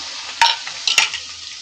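Onion paste and mustard paste fry in a pan for a fish curry, a steady bright sizzle with two sharp utensil scrapes or stirs, close and loud, no talking.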